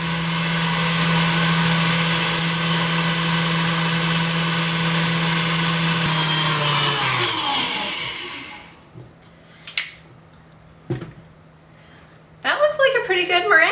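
Meringue being whipped with sugar in a mixer until thick and glossy, a loud steady motor whine running for about seven seconds before it winds down and stops, followed by a few knocks and then voices.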